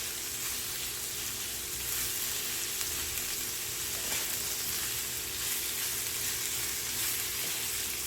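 Hash sizzles steadily in a frying pan, a continuous broadband crackle at moderate level with faint stirring and no voices.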